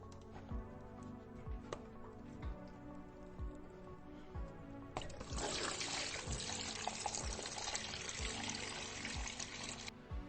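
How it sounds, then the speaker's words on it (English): Coolant drains from a street bike's water pump hose, starting as faint drips and trickles, then halfway through turning into a steady, hissing pour of liquid onto a surface. "even though we've drained the coolant, there's probably still some coolant in the overflow bottle"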